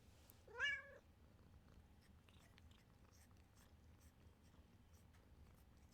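A pet cat gives one short, fairly close meow seeking attention, followed by quiet room tone with faint small clicks.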